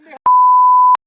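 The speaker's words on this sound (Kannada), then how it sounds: "ಇದು ಹಾಕಲ್ಲ, ಇದು ಬೀಪ್ ಆಗ್ತಾ." A single loud, pure censor beep holds for under a second, with clipped fragments of speech just before and after it.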